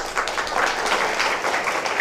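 Crowd clapping at a Samajwadi Party rally in Umarkhed, a dense, steady wash of applause from a large gathering lasting a couple of seconds.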